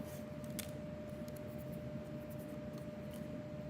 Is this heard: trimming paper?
yes